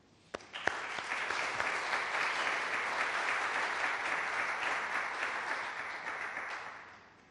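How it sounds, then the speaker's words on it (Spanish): Welcoming applause from an indoor audience at a book presentation: a few sharp early claps swell into steady, moderately distant clapping that holds for several seconds and then fades out. "vamos a darles a todos un aplauso de bienvenida"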